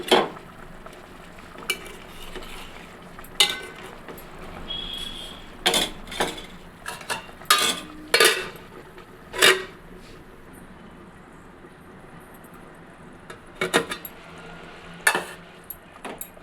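Fried eggs going into a simmering egg curry with dried fish and drumsticks, stirred with a spoon: scattered clinks and knocks against the pot over a soft, steady background.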